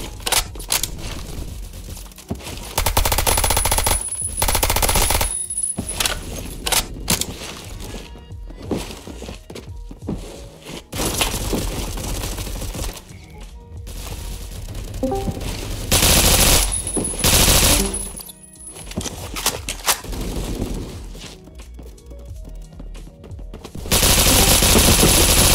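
Gunfire in the Phantom Forces online shooter, with loud bursts of automatic fire and single shots coming in irregular volleys, some very close and harsh, with brief quieter gaps between them.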